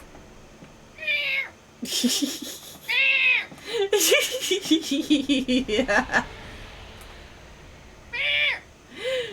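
A cat meows loudly and repeatedly in drawn-out, rising and falling cries close by, interleaved with a voice speaking and yelling back, partly imitating the cat's screams.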